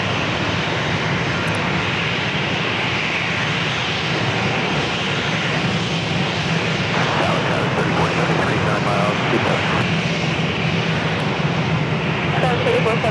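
Airliner going around at San Diego airport, a sustained loud jet engine roar filling the whole stretch, with people talking over it now and then.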